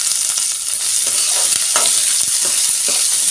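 Oil sizzles steadily in a pan as onions fry, with soft scraping stirs cutting through the hiss every second or so, close and fairly loud.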